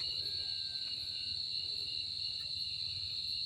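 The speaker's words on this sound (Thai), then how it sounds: "จิโปม" Chipom, a Thai underground cricket, trills in a steady, continuous high chirp, loud and close, over faint evening outdoor ambience with no voices.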